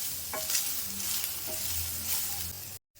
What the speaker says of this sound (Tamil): பூண்டு வெங்காயம் முள்ளங்கி நல்லா வறுத்துக்கணும்.